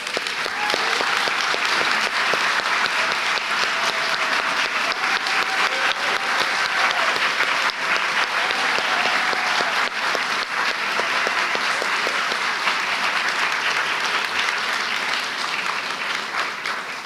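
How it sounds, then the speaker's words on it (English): Sustained, loud audience applause for graduating MFA artists at a commencement ceremony, a dense, even wash of many hands clapping that continues without pause for well over fifteen seconds. "Everyone, please join me in applauding these artists."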